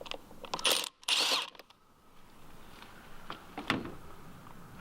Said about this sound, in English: we got some 10mm nuts we're going to loosen up here